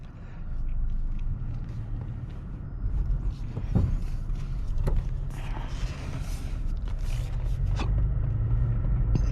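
A 2016 Toyota Tacoma TRD Sport 4x4 pulling away and driving, heard from inside as a low rumbling road and engine drone with a few knocks and bumps, steady and moderately loud.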